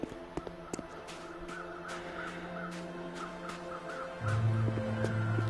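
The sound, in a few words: birds calling in The Long Dark video game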